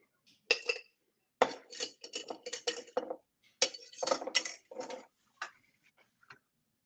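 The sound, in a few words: cocktail being poured into a glass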